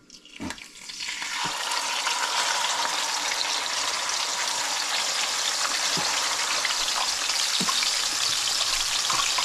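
Fish fries with curry leaves in a large pan of hot oil after a few clattering bumps as it goes in, then a loud, dense, continuous sizzle holds steady close by with no talk.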